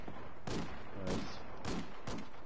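Gunfire in the tactical shooter game Ghost Recon: four sharp, loud broadband shots spaced roughly half a second apart, each with a short rumbling tail, standing alone without talk.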